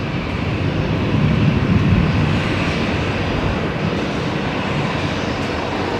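A Qantas airliner, flight 626 from Melbourne, arrives at Brisbane Airport at night, giving a loud, continuous engine roar that swells slightly early on and then holds steady.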